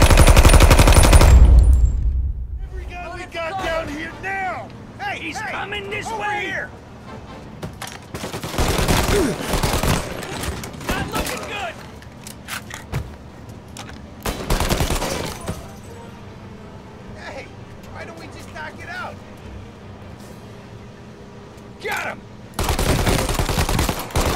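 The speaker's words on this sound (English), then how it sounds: "Αυτό το Tommy Gun είναι μια βλακία" Tommy Gun bursts rattle out in Mafia Definitive Edition, with loud sustained volleys at several points separated by quieter stretches holding game sounds and a voice.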